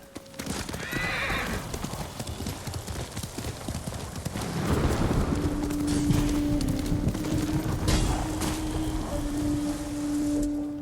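Horse hooves clip-clopping in Ghost of Tsushima, a steady rhythmic gallop close and continuous throughout, with a brief whinny early on and game sounds and tones mixed in.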